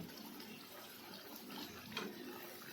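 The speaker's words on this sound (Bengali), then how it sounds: "এই যে দেখুন বন্ধুরা জল দিয়ে দিয়েছি মাংস ফুটেও এসছে" Water splashes into a pan of simmering meat curry, a soft steady wash of liquid and bubbling heard alone at low level.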